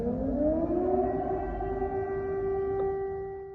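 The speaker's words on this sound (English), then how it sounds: "Every 2 or 3 hours there are being sirens, and we have to run to the bunkers" A civil defense air raid siren wails in Ukraine, its tone rising then holding a long, steady pitch, loud and alone before slowly fading.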